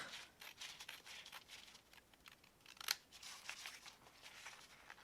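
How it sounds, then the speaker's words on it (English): Scissors snip through paper in quick, repeated cuts, quiet and close, with a light crisp rustle between strokes. "let's get our scissors and cut these up"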